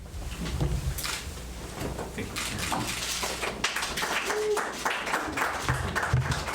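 Crowd applauding and cheering for a new police chief at a Pittsburgh welcoming event: dense, continuous clapping with scattered whoops, sustained throughout.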